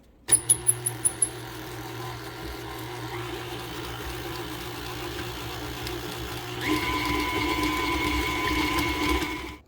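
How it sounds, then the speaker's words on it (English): After a few quick clicks, an electric mixer motor hums steadily while creaming 1 1/4 cups of sugar for snickerdoodle cookie dough, then rises to a louder, brighter whir for the final few seconds. "we're going to put that to mix, get it creamed for about 2 to 3 minutes"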